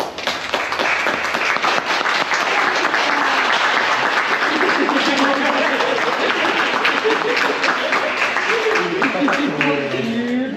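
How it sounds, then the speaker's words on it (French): Congregation clapping loudly at a child's baptism in church, a sustained, dense wash of many hands that continues steadily, with voices speaking and calling out over it toward the end. "avec joie en l'applaudissant très fort"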